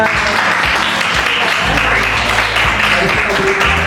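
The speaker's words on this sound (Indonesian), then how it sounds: "Bagus, tepuk tangannya" Classroom applause during a school teaching session, a steady dense patter of many hands clapping together with some voices mixed in underneath, continuous and fairly loud throughout.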